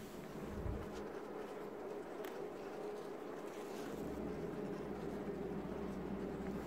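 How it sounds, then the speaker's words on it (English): A dense, steady buzz from many agitated honeybees in a hive, continuous and fairly close, with a low droning hum running underneath throughout. "That's the sound of a lot of bees are not in a good mood."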